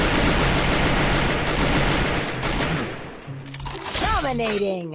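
Sustained automatic gunfire in Free Fire, a battle royale mobile game, roaring loud and dense before cutting off, followed by a short excited voice.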